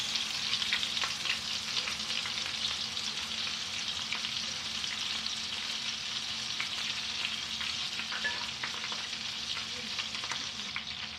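A salmon fillet with lime juice fries in a pan, giving a steady, close sizzle that crackles without a break from start to finish and carries no voices.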